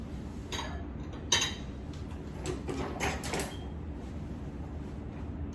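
Spatula scraping peach streusel cake batter around a mixing bowl, soft scrapes and light knocks against the bowl over a low room hum, with one sharper clink.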